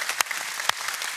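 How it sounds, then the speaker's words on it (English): A live audience at a fireside chat with panelists claps briefly, sparse sharp claps with a few louder ones standing out, fairly close and without talk. "You're clapping yourself."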